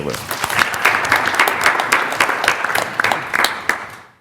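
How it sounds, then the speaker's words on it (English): An audience at a Lynn city council meeting applauds councilors, a brisk patter of many hands clapping with individual claps standing out, fairly close and loud, tapering off at the end. "Let's give them a round of applause."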